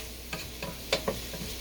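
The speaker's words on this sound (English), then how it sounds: "I put the sugar in there to caramelize the onions." Onions cooking down with sugar in a pot for French onion soup give a low background sizzle, broken by a few soft scrapes and knocks of stirring spaced across the short stretch.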